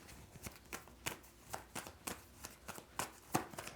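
Tarot cards handled and pulled from the deck, a run of crisp papery flicks and slaps in an uneven rhythm, close and fairly quiet, with no voices.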